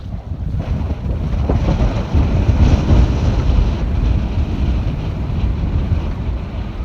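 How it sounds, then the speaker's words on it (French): Strong wind gusts roar across the microphone aboard a sailboat anchored in Zampika bay on the Rhodes coast. The rushing, buffeting noise is steady and close throughout, with no speech. "Il y a des bonnes rafales par là."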